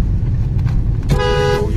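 A car horn sounds on a winding mountain road on a rainy day: a single sustained honk cuts in over the loud rumble of the moving car and holds to the end.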